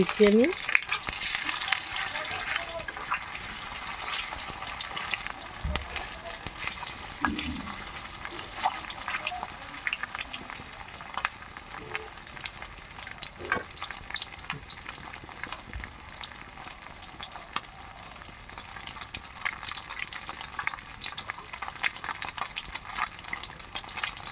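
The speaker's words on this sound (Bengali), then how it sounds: "গরম তেলের মধ্যে ছেড়ে দিচ্ছি ডিমগুলো" Batter-coated eggs frying in hot white oil: a lively crackling sizzle from the start, steady and close, with scattered pops and occasional stirring knocks, no voices over it.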